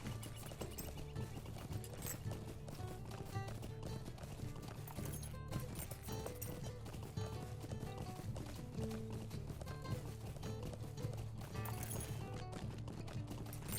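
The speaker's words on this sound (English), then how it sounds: "Let me get on my horse." Horse hooves galloping in the video game LOTRO: fast, steady clip-clop of a running horse, continuous and fairly close throughout, with faint game ambience behind.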